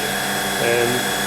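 A steady mechanical hum of a Fabdec milk tank's wash pump, running during a tank wash fault, continues throughout, with a brief rise in tone midway and faint voices underneath.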